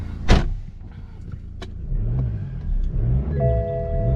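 A BMW F22 2 Series car, a wrecked example under rebuild, cranks with a sharp click and settles into a low, steady idle with faint warning chimes, close by.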